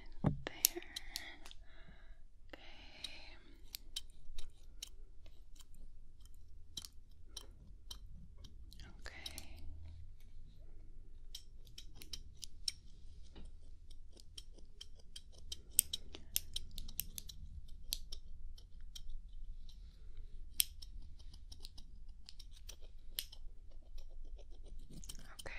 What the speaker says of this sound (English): So I'm just gonna go ahead and trim.